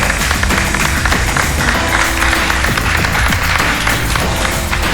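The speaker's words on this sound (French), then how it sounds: "Ça mérite des applaudissements." A studio audience at the first-season finale of Cameroon Top Model applauds the four finalists, dense continuous clapping at steady loudness throughout with crowd noise mixed in.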